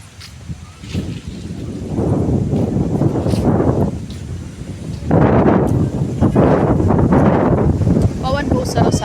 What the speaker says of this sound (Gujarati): જો તો ભાઈ પવન જોરદારનો આવે છે